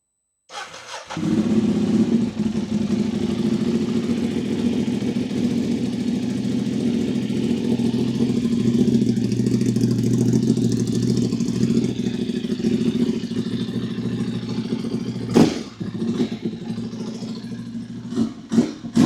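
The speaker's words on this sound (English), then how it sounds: "The last thing we're gonna do is start up the bike and make sure that everything is working" A Ducati Hypermotard motorcycle engine cranks and fires up after exhaust repair, then settles into a steady, loud idle with a low rumbling throb, with a few revs and clicks near the end.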